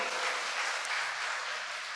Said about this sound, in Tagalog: Palakpak po tayo dyan.